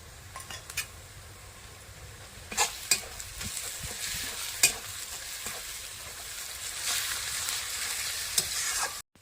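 Garlic paste sizzles steadily in a hot pan of reddened onions for a village-style chicken curry, with a spatula scraping and clinking against the metal a few times. The frying is close and continuous, with no talking.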